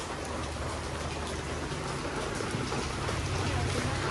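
Steady rain falls outdoors as a dense, even hiss of drops on surfaces, constant and fairly close with no pauses.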